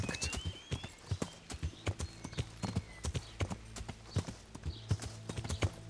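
Horse hooves clip-clop in Kingdom Come: Deliverance, a steady run of close, sharp clops over a low droning background, alone with no talk.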